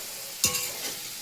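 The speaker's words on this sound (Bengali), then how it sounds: "সয়াবিনের জন্য আলুটা ভেজে নিচ্ছি," Potatoes fry in oil in a pan, ready for a soybean dish. A sharp scrape of stirring breaks through a low, steady sizzle, close up with no talking.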